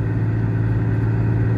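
A Mercedes-Benz E320 W210 V6 with a cat delete and Flowmaster muffler idles steadily with a deep, throaty low rumble, constant and fairly loud, no voices.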